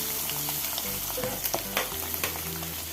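Mackerel frying in a pan gives a steady, close sizzle with scattered sharp pops and crackles throughout.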